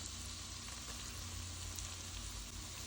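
Seasoned shrimp hitting a hot pot, giving a steady, even sizzle and crackle with a low stove hum underneath, no voices.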